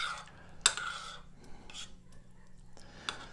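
A spoon scrapes and clinks against a pot while stirring a fig dessert mixture with plenty of wine, a dish made from a 1393 recipe; a few sharp metallic taps stand out among soft scraping strokes, close and quiet.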